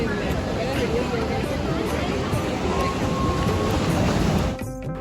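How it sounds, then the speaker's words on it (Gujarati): Sea waves wash continuously against the shore at Bhadkeshwar Mahadev in Dwarka, a loud, dense surf roar with wind, fading slightly near the end. "મોજાનો અવાજ ફીલ કરો, જાણે કુદરતનું સંગીત ચાલુ કેમ ન હોય"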